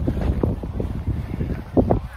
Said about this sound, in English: It's quite windy now, so bear with me